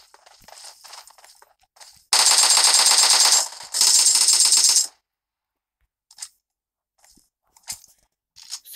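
Rapid automatic gunfire in a PUBG Mobile match comes in two loud, sustained bursts, each a few seconds long. Scattered softer clicks and single shots fill the stretches before and after.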